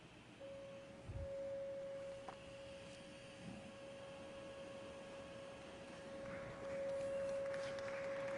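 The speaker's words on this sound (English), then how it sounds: "let's play a 550 hertz frequency and watch what happens." A steady 550 Hz tone plays through a propane-fed flame tube, a thin, clear pure note sustained across the whole stretch over a low roaring background, briefly dropping out in the middle.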